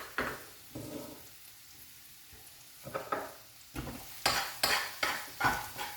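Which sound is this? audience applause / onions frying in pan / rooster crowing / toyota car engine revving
onions frying in pan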